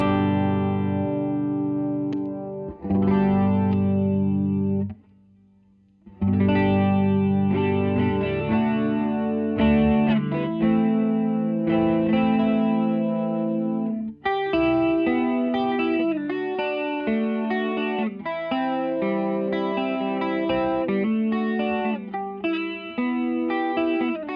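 An electric guitar with a shimmering chorus effect strums and picks chords, with a brief pause early on, played alone and close.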